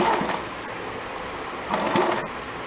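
A sewing machine stitches kurti fabric in a home tailoring setting, running in two short bursts of steady mechanical whirring at moderate, close volume.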